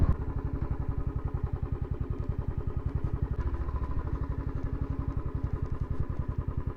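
Royal Enfield motorcycle fitted with a MotoTorque Launcher Pro aftermarket exhaust, idling close by with a steady, rapid thumping pulse that holds an even rhythm throughout.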